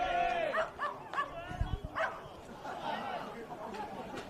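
A dog at a schoolboy rugby match between St Patrick's College Silverstream and Scots College gives a few short yips and whimpers under the commentator's voice and distant crowd noise.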